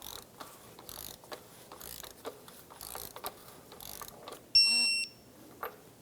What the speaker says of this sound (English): Torque this bolt to 36 foot-pounds.